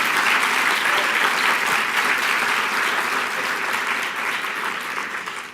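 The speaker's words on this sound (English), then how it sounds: "If you would like to applaud for them, you may do so." A crowd gives steady, sustained applause for the volunteers at the 2013 Nashville Reads event, dense clapping that stays close and even before easing slightly at the end.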